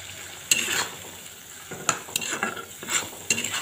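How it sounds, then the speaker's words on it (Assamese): Fish belly stir-fries over medium heat in Assamese style, with a soft sizzle under repeated scraping strokes of a spatula against the pan, no voices. "এনেকৈ মই মিডিয়াম জুইতে ভাজি থাকিম শুকান নোহোৱালৈকে"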